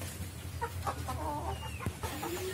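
Bangkok chickens in a postal litter coop, about nine birds, cluck and murmur in short scattered calls over a steady low hum, fairly close and moderately loud, with no talking.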